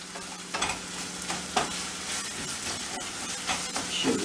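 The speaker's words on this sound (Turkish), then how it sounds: "Şimdi bu salçamız kavruluyor." Tomato paste frying in oil in a pan while being stirred, a steady close sizzle with scraping strokes of the utensil rising at intervals, no voices.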